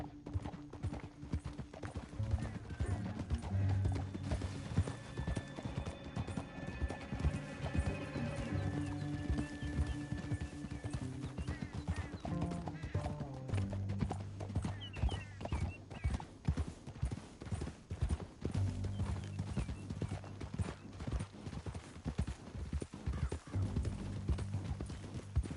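Horses gallop through the Red Dead Redemption 2 countryside, with steady rapid hoofbeats running the whole way, a brief whinny early on, and game music layered underneath.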